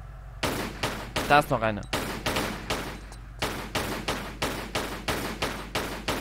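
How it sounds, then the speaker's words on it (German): Rapid gunshots fired at bats in the video game Tomb Raider 1 Revised, inside caverns: a steady run of about a dozen sharp, evenly spaced shots with a brief spoken remark over one burst. "Und schieß nochmal auf die Fledermäuse ein."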